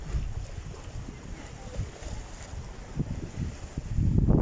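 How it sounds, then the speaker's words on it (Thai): Strong wind and choppy waves on Kwan Phayao lake during rain, with steady gusty wind noise against the microphone over the water and a louder surge near the end. "ทุกคนคลื่นแรงมากเลยอะ่ะ ทั้งฝนทั้งลมนะคะ"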